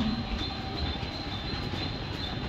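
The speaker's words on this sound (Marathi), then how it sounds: "टिटवाला जाने वाली धीमी लोकल थोड़े ही समय में प्लेटफॉर्म क्रमांक 1 पर आ रही है" A slow Mumbai local train rumbles into Vikhroli station, low and steady, with a thin, sustained wheel squeal riding above it; no voices.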